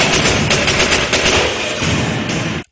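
Rapid bursts of automatic gunfire from an action movie shootout between police and gunmen, loud and dense, rattling continuously for about two and a half seconds before cutting off abruptly.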